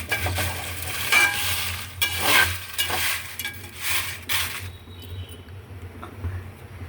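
Jackfruit seeds, lightly salted, fry and get stirred in a pan, giving a steady sizzle with scraping and stirring clatter up close, which thins to a quieter crackle near the end.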